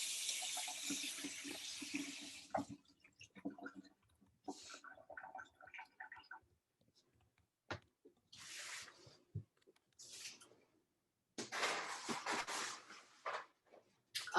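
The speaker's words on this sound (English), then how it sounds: "let me rinse off my hands" Running tap water splashes over hands being rinsed at a kitchen sink, coming in several short, separate bursts with quiet gaps between, fairly close and moderately loud.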